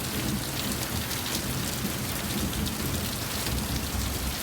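Steady rain falls outdoors during a summer thunderstorm, a dense, even hiss of drops on surfaces with a low rumble underneath, continuous and fairly close.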